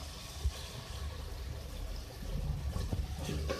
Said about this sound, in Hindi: अब मैं इसमें जो है 2 कप पानी ऐड करूँगी कीमे को गलाने के लिए